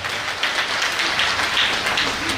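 Audience applause at an awards ceremony for a Mother's Day celebration in Agboville, Ivory Coast: a steady, loud wash of many hands clapping close by, continuous throughout with no talking.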